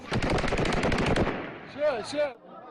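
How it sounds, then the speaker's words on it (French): Rapid bursts of police gunfire with live ammunition during riots at police stations, dense automatic volleys for nearly two seconds, then tapering off as whistling, wailing cries rise over it. "La police répond par des tirs à balles réelles."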